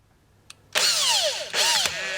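A drill reams out bushing holes in a Pontiac Quadrajet carburetor, two close, loud bursts of high whining spin, the first longer, separated by a brief pause after a faint click beforehand.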